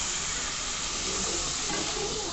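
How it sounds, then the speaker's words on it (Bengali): Water poured into a hot pan of salted, turmeric-dusted spices for a vegetarian Bengali bean, eggplant and potato curry, giving a steady, close, broadband hiss and sizzle without pause. "এবারে কিছুটা জল এখানে অ্যাড করে দিচ্ছি"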